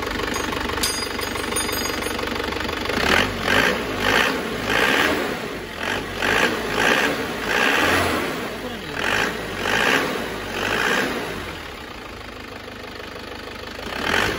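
Isuzu Panther car engine after repair, idling roughly then revved in repeated loud surges with a knocking, rattling tone, close to the microphone.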